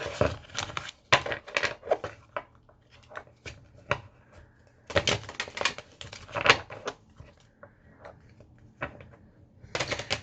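Tarot cards being shuffled in quick bursts of riffling and slapping, close up, with pauses between rounds and no talking.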